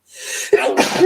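A single loud, close sneeze from a person indoors, with a sharp inhaled buildup followed by an abrupt explosive burst and a short voiced tail.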